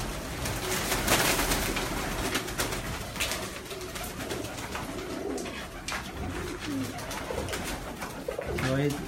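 Pigeons cooing on a rooftop, several soft repeated coos close by, with someone talking over them and outdoor background noise.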